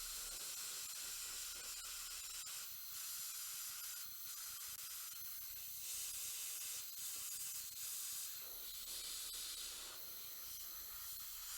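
An airbrush sprays Evil Sun's Scarlet red acrylic paint from Games Workshop onto a miniature, a continuous close, airy hiss that holds steady with slight pulsing and no talking.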